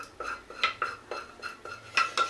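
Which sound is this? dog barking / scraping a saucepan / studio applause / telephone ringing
scraping a saucepan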